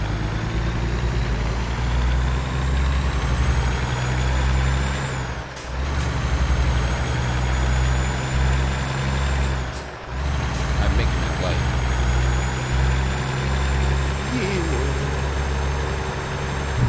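Heavy diesel drone of a Peterbilt 386 truck in American Truck Simulator, steady and loud throughout, with two brief dips where the engine note drops and rises again.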